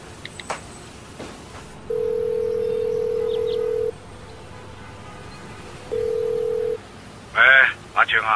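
Landline telephone placing a call: a steady ringback tone sounds for about two seconds, stops, then returns more briefly, over quiet room noise with faint taps and a voice speaking at the end.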